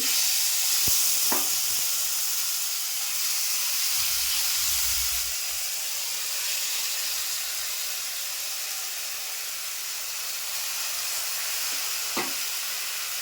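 Loud, steady sizzling of a spice tempering dropped into hot oil, a continuous crackling hiss with a couple of brief clinks, no voices.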